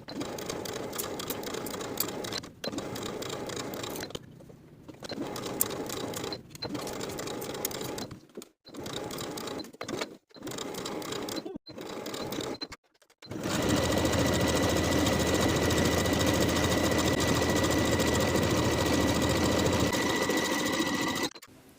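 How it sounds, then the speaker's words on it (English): A home sewing machine stitches top and bottom bodice pieces together in short stop-start bursts of fast, whirring needle action, then runs in one long unbroken stretch, close and clear. "Sew the top and bottom bodice pieces together straight across with a 1/2 inch seam allowance"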